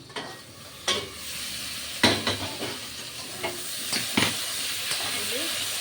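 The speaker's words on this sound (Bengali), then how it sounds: "আমটা একটু ভালো করে ভেজে নিলাম।" Mango pieces for a sweet pickle fry in a pan, a steady close sizzle broken by several sharp stirring scrapes and clatters, with no voices.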